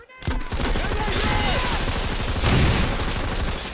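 Planetside 2 gunfire fills the space, a dense, loud, continuous fusillade of overlapping weapon shots that starts abruptly and keeps going without a break.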